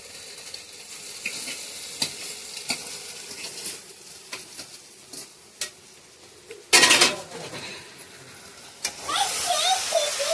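Chowmein noodles stir-frying in oil with spinach and spice masala in a pan, steady sizzle with scraping spatula strokes and a loud burst of hissing as noodles hit the pan, close by.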